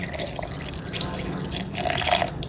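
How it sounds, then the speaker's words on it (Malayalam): Milk pours into a mixer jar holding chopped mango, a steady liquid trickle and splash that thickens toward the end, close and moderately loud with no talking. "ആവശ്യത്തിന് പാൽ ഒഴിക്കാം കേട്ടോ."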